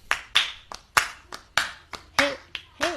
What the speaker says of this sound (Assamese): আমি হাত চাপৰিটো বজাবই পাৰো বলকচোন একেলগে হাত চাপৰি বজাও